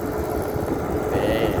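A steady, low SK120-3 excavator engine rumble drones throughout while digging, rough and continuous, with strong wind noise and faint background talk mixed in.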